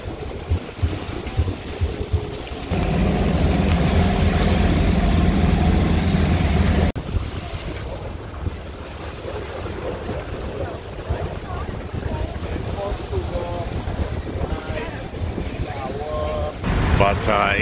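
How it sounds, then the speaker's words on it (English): A catamaran sails calm waters off the west coast of St. Lucia, with steady wind buffeting the microphone and a broad rush of water and hull noise, loudest early on and then easing. "sailing around here on the west coast of the island of St. Lucia, and waters are really calm today"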